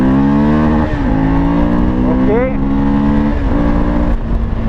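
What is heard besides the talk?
Suzuki V-Strom 1000 XT motorcycle accelerating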